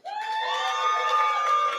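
A live show audience cheers and whoops loudly, a dense crowd roar with high voices rising together and holding steady for a couple of seconds.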